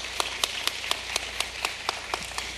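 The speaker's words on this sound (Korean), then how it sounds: "다시 한번 우리 선생님께 큰 박수 한번 부탁드립니다." Audience applause for a teacher at a book-sharing cultural event, a thin, regular clapping of a few hands at a steady rhythm, fairly faint and with no talk over it.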